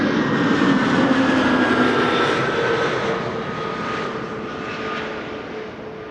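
KLM Embraer 190 jet arriving at Amsterdam Schiphol from London Heathrow, a loud steady engine roar with whining tones that fade slightly as it passes.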